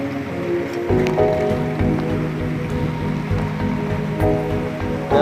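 Water of the Namlik river flowing steadily near a bridge crossing, a continuous broadband rushing wash that stays fairly loud and even throughout, with no talk.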